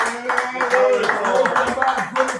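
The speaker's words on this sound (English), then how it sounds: "Give him a round of applause." Audience applause for the owner of the Hardback at a hedonist tabernacle show, a steady crowd clatter mixed with cheering voices throughout.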